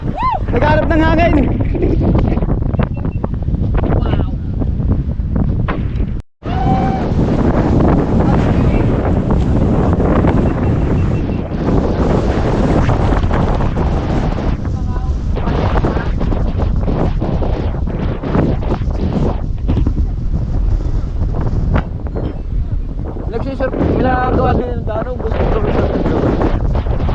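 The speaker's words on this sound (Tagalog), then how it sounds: "Nagharap ng hangin." Strong wind gusting hard across the microphone on a climb of Mount Batulao, loud continuous roaring buffeting with a brief dropout, voices partly audible beneath it.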